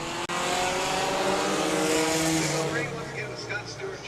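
Race cars, front-wheel-drive machines, roar around a short oval at the Indianapolis Speedrome, a loud continuous engine blare with shifting pitches as several cars pass, with a commentator's voice running over it.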